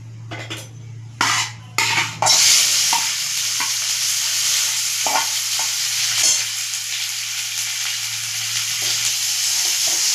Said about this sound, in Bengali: এবার পেঁয়াজ আর টমেটোগুলোকে আমি দিয়ে দেব।